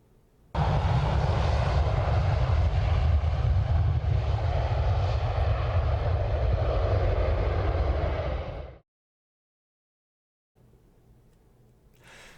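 A jet aircraft roars loud and steady at close range for about eight seconds, then cuts off abruptly into silence, followed by a faint low background rumble.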